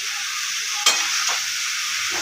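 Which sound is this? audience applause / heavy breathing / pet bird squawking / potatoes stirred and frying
potatoes stirred and frying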